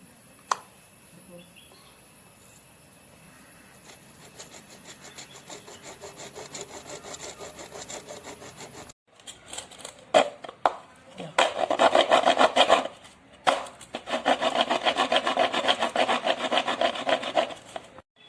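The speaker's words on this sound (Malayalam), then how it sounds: "അപ്പോൾ ആദ്യം നമുക്ക് ഇതൊന്ന് കട്ട് ചെയ്തെടുക്കാണ്ട് ഇത്ര നമുക്ക് ഇത്രയും ഭാഗം നമുക്കൊന്ന് കട്ട് ചെയ്തെടുക്കാം" An old PVC pipe is cut with a saw, giving close, rasping back-and-forth strokes that get louder and more continuous in the second half, with quieter handling before and faint birds in the background.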